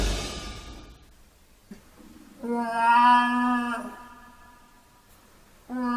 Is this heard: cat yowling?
yes